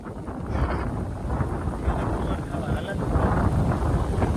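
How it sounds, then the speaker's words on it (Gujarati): Strong wind gusts buffet the microphone outdoors, a rough, rumbling roar that rises and falls without letting up, with faint voices underneath. "એકદમ ફૂલ પવન છે એટલે કંઈ કામ થતું નથી"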